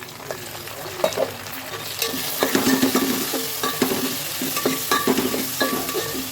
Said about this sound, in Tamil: ஆயிலில் வந்து புதினாவும் கொத்தமல்லியில் போட்டுக்கோம்.